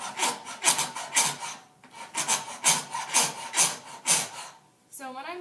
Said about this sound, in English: I'm going to work with the bigger files, just to kind of start off with, so you get a chunk of it off, and file away.